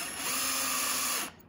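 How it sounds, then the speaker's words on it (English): A power drill bores a hole straight down into birch wood, a loud continuous whine holding steady for over a second before cutting off abruptly, with no talking. "drill straight down, just like that."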